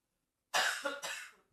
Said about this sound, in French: Ça fait tousser ici.